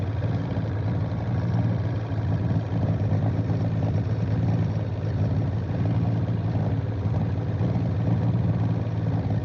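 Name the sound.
75 horsepower boat motor while trolling for pike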